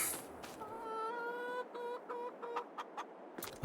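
Chickens cluck and squawk in Farming Simulator, a steady run of tonal, repeated clucks over a constant background hum, with a few sharp clicks near the end.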